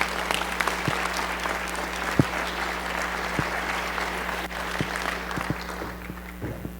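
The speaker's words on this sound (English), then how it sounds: "Give a round of applause for Arnold." Applause ripples through a keynote and lifetime achievement award gathering of the Oregon chapter as Arnold Cogan is called up, steady clapping from a modest crowd with a constant low hum underneath.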